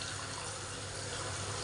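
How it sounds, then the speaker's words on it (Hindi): Water pours in a steady, continuous stream into a cooking pan, close and fairly loud, with no talking. "अब हम इसमें करेंगे पानी को ऐड"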